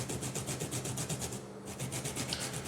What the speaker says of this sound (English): we're just going to grate our fresh ginger.